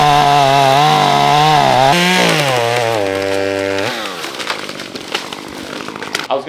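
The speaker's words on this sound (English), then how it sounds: "Oh, that's a cute little chainsaw." A small chainsaw at an abandoned resort being renovated runs close and loud, its engine pitch rising and falling as it revs, then settling into a rougher idle with clattering.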